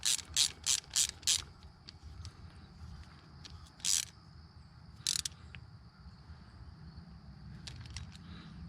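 Torque wrench clicking sharply as it tightens shock hardware on a 2002-2009 Dodge Cummins truck, about five quick clicks in a row, then a few more isolated clicks over a steady low background hum.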